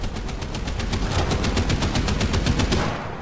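Rapid automatic cannon fire from a fast SPAA anti-aircraft vehicle in War Thunder, a loud, close, steady burst of evenly spaced shots shooting at a Corsair, fading away at the end.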